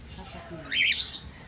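A single sharp, high-pitched cockatiel squawk rings out near the middle, loud and close, over faint background murmur.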